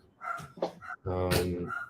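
A dog barks indoors in a few quick, loud bursts close by, with a person's voice briefly audible around it.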